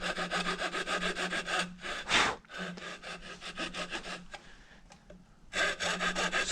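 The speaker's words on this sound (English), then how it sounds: "We're going to cut down close to, but not touching that line for the chamfer." A hand carving tool cuts a chamfer into wood in repeated close scraping and rasping strokes, a steady rhythmic shaving with one sharper cut partway through and a short quieter pause near the end.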